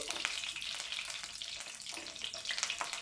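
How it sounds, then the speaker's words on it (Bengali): Garlic cloves frying in oil give a bright, dense, close sizzle that holds steady over a few seconds, with no talk. "রসুনটা ভালো করে ভেজে নেব।"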